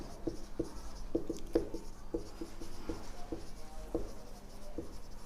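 Chalk or a marker writes a chemistry equation on a board in a classroom, with short scratchy strokes and soft taps coming in uneven bursts, close and fairly quiet.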